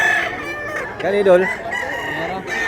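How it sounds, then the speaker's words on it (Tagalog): Roosters crow at a busy rooftop-area poultry market in Mantalungon, Barili, Cebu, one loud nearby crow cutting through clucking and other birds, while someone speaks briefly over the din. "May manok mga idol. Daming manok."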